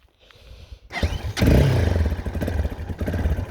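A Viper V250L motorcycle, new, starts up: a quiet lead-in, then a sharp catch of the engine that settles into a loud, close, steady low idle, with no talk over it.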